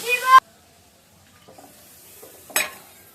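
Black pepper and spices dropped into hot oil at home, with a splash of water added: a sharp hiss at the start, a quiet stretch, then a second loud sizzling burst as water hits the pan.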